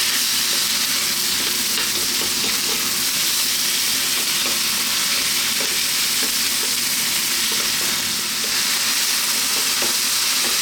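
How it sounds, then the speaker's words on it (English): Thin strips of skinless, boneless chicken breast sizzle hard in a pan over a very powerful burner on maximum heat, a continuous crackling fry that is stirred throughout, with no one talking. "And then we're going to go in with our chicken. Like I say, chicken breast, no skin, no bone, cut really nice and thin, maximum heat all the way here."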